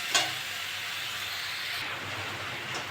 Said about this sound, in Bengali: এবার আলু পটলগুলো দিয়ে দেবো, দিয়ে ভালো করে কষে নেব।